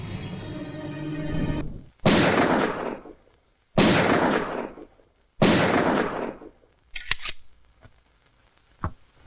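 Three sharp, loud gunshots with echoing tails ring out at even intervals during target practice with a handgun in a Filipino action film, followed by faint clicks and a small distant crack.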